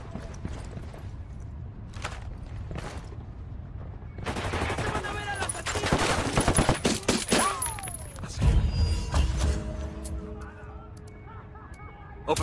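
Bursts of gunfire in the Spec Ops video game, set in Bolivia, rising from scattered shots to denser volleys amid game effects and some background voices.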